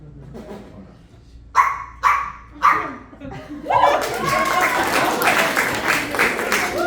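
A person imitating a dog bark on stage at a variety show, giving three sharp, yappy barks in quick succession, followed by a burst of audience applause and cheering.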